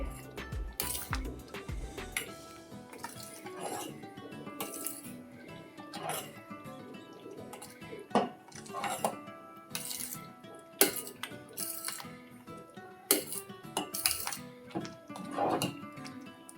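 A metal utensil stirs minced-meat khichuri in a cooking pot after ghee and fried spices go in, giving scattered clinks and scrapes against the pot over a steady background.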